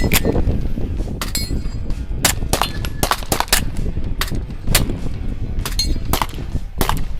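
Sharp, muffled suppressed pistol gunshots pop repeatedly at an irregular pace, some close and some farther off, like several shooters firing at a range, at a SIG Sauer demo day.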